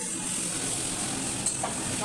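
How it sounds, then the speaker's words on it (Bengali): Onion pieces sizzle in oil left from frying pointed gourd for potol posto, a steady soft hiss with a faint clink or stir midway. "ওই তেলেই পটল ভাজা তেলেই পেঁয়াজ কোড়া দিচ্ছে।"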